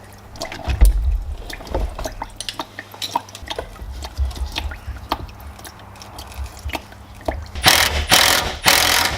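A car jack ratchets in a steady run of small metallic clicks as the car is raised, close and fairly quiet, with louder clunks near the end.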